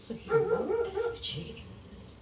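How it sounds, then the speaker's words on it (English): A dog barks and whimpers nearby in a room during Dark Souls 2 gameplay: a few short yips and barks, moderately loud, mixed with a person talking. "Apologize for the dog barks"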